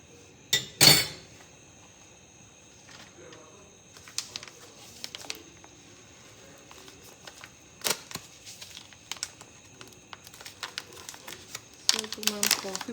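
A spoon clinks and taps against a cup while coffee is mixed, giving a sharp rattle near the start followed by scattered light clinks and a brief cluster at the end, close but quiet, with sparse talk underneath.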